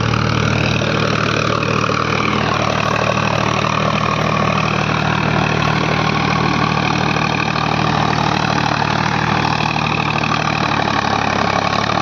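A Sonalika RX 50 4WD tractor engine runs loud and close in a continuous, steady diesel drone with a low knocking rumble, with no pauses or voices over it.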